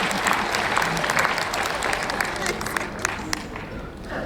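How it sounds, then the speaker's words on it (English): Steady applause from a large audience, dense clapping filling the whole stretch at an even level without letting up. "Round of applause."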